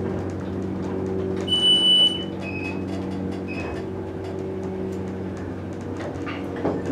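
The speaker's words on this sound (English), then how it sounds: "And the chimes are all out of whack." Out-of-tune chimes ring in an old hydraulic elevator in Dobbs Ferry, New York: a few short, slightly sour electronic tones sound moderately loud over the car's steady low rumbling hum.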